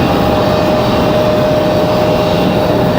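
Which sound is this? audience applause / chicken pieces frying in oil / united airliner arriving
united airliner arriving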